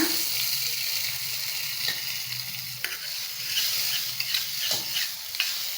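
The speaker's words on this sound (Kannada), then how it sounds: "ಒಗ್ಗರಣೆ ಹಾಕಿರೋದನ್ನ ಇದಕ್ಕೆ ಹಾಕೋಣ" Hot spiced tempering with cumin is poured into a horseradish yogurt raita, giving a steady close sizzle with scattered crackles and clinks of stirring throughout, no voices.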